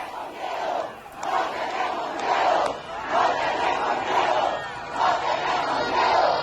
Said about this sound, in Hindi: भीड़ ने की मारिया के समर्थन में नारेबाजी।